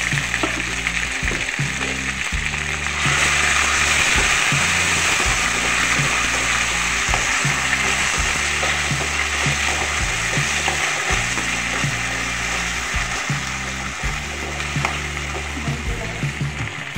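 Garlic paste sizzles loudly in a pan with onion fried until browned, for a bitter gourd dish, with steady frying hiss broken by rhythmic scraping as it is stirred.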